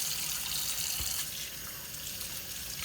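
Water splashes and runs steadily from a faucet into a sink as a plastic part from a Tunze Comline DOC 9004 DC aquarium protein skimmer is rinsed, a continuous close hiss with a brief louder splash near the middle.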